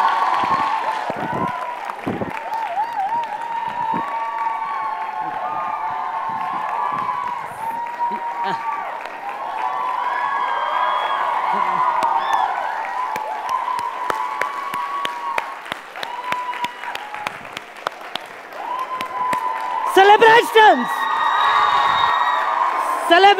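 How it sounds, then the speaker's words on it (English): An audience at an evening coding-hackathon session applauds and cheers to welcome a tech founder, sustained clapping mixed with whoops and shouts and some voices, loud and continuous with a burst of cheering near the end. "let us give a big round of applause and welcome the founder of TechSparx"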